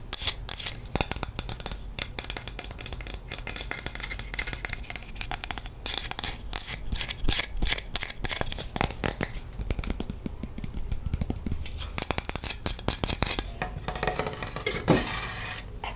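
Metal kitchen spatula handled up close for ASMR, with dense rapid tapping and scratching clicks in an unbroken, busy stream, crisp and intimate, with no talking.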